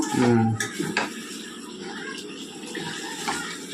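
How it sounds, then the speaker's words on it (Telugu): Water splashes into a pot of simmering chicken biryani curry, a brief close pour with clanking of the pot, then softer bubbling and stirring. "ఎసరు పోస్తాను"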